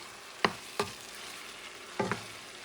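A spoon stirs pork stew in a pot with three quick scraping strokes, two close together and then one after a pause, faint against a quiet background with no voices.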